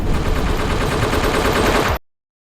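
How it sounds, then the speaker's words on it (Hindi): A sustained burst of rapid gunfire in an ambush fills the clip loudly and densely for about two seconds, then cuts off abruptly into silence. "गोलियां चलना शुरू हो गई"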